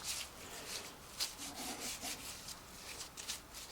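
A pit saw blade is rubbed down with a very oily rag, giving faint rhythmic swishing strokes that repeat at an uneven pace with no voices.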